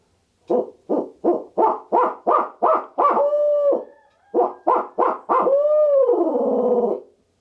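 A barred owl laugh imitated on a hand-held owl call: a run of quick rhythmic hoots rising into drawn-out wavering notes, repeated twice, close and loud.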